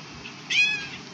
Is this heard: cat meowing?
yes